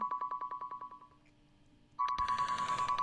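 A phone ringtone for an incoming call sounds as a rapid series of clear electronic beeps. It pauses briefly, then resumes louder and denser over background noise.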